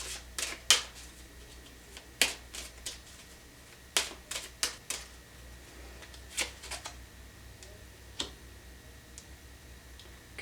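Tarot cards are drawn and handled, giving crisp, scattered taps and flicks at an uneven pace, close and quiet, with no talking.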